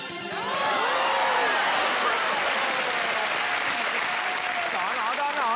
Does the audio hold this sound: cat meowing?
no